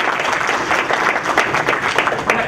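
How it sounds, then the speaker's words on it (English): Steady applause from an audience at a sustainability awards and recognition event, a continuous close burst of many hands clapping with no talk over it. "let's give everyone a round of applause"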